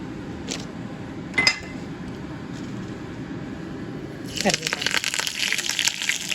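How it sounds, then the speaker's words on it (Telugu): After a quiet stretch with a couple of clinks, mustard seeds, cumin and dried red chillies in hot oil burst into rapid, uneven crackling and popping, close by and continuing. "కొంచెం దూరం ఉండాలండి చిటపట్ల ఆడుతుంది"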